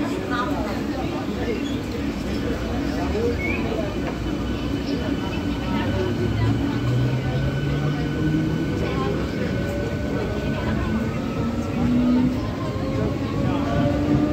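Train riding past Belmuri station on the Dankuni to Masagram line, heard from on board: a loud, continuous rumble and rattle of wheels on rail throughout, with faint rising whines and a voice talking over it.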